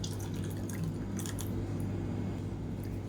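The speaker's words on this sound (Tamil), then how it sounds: "இப்போ மிக்சி அலசிட்டு தண்ணி சேர்த்துக்கலாம்" Water runs into a mixer-grinder jar to rinse out leftover drumstick-leaf chutney, a faint, soft trickle and dripping in a quiet kitchen with no talk.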